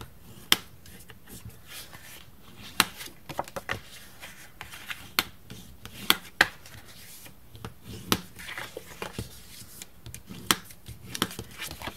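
Paper being folded and burnished to make a box, with sharp creasing snaps and rubbing swipes at an irregular pace, close and fairly crisp.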